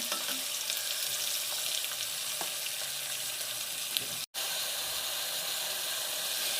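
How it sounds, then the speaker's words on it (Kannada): Onions sizzle and fry in a pan for a potato gravy, a steady, dense hiss that stays loud and even throughout, broken only by a brief moment of silence near the end. "ಇರುಳಿ ಹಾಕಿ ಮೇಲೆ ಚನಾಗ್ ಫ್ರೈ ಮಾಡ್ಕೊಳ್ಳಿ"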